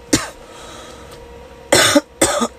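A traveller ill with body aches gives three close coughs: one single cough, a short pause, then two more in quick succession, each loud and harsh, with no speech between them.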